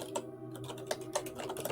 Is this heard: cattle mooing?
no